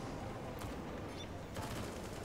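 Gunfire crackles through a Counter-Strike match on Overpass in a pro esports game, Liquid versus SK, with dense continuous shooting, sharp bursts around the middle and near the end over steady background noise.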